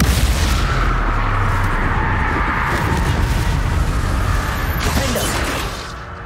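A Bombarda spell explosion in Hogwarts Legacy roars as a loud, dense blast of noise that holds steady for several seconds before easing slightly near the end.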